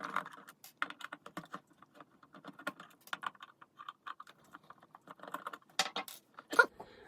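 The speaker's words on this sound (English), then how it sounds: "So we're gonna take these screws out." Screws being removed from a 500W Amazon Basics ceramic space heater, a quiet string of small irregular clicks and scrapes close by, with no speech.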